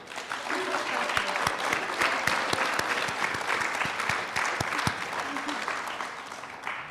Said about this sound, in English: let's give them applause now because they deserve it